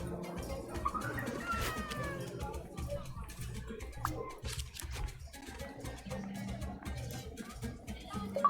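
A cat meows faintly and briefly in the video game Hidden Cats in Istanbul, set against a steady bed of busy city ambience and game background sound.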